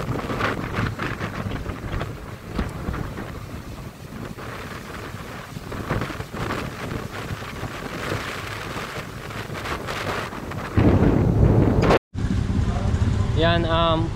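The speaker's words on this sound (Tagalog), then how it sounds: "Ito, pakalakas ang hangin." Strong wind during a typhoon buffets the microphone with a continuous roaring rumble, and a voice speaks over it. The wind surges louder near the end, cuts out briefly, then returns.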